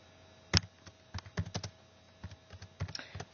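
Typing an article title on a computer keyboard: sparse, close key clicks in short irregular bursts with quiet gaps between, a crisp tap standing out near the start.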